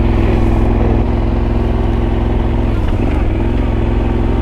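A motorcycle carrying two riders rumbles steadily close by on a desert road near Merzouga, Morocco, a low throbbing drone that holds loud throughout with a brief dip and surge near the end.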